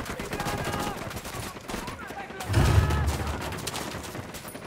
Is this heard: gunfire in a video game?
yes